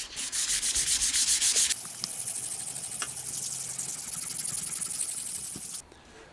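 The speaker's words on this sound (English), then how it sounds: "I'm going to go around with some wet and dry 400 grit, just try and take out anything that might be a problem" Wet-and-dry 400 grit paper rubs over the repaired front wing of an MG TF, making fast rhythmic scrubbing strokes at first, then a steadier, softer continuous rasp before it stops abruptly.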